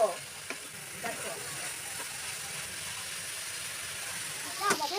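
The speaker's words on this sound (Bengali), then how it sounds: "এখন আমরা ভালো মতন ভেজে নিব" Grated carrot fries in a pan for carrot laddu, a soft continuous sizzle broken by occasional scraping stirs of a spoon, fairly quiet and close, with a voice faintly present.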